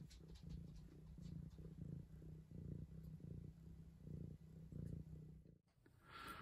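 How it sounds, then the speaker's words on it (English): A cat purrs close by in a steady, rhythmic low rumble, each breath pulsing in and out, ending with a faint rustle. "Can you hear purring?"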